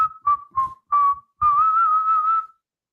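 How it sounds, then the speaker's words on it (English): A man whistles a short tune while he works on building out a hostel, a clear close melodic whistle in several brief notes followed by one longer wavering held phrase, alone without talk. "whistling while he worked"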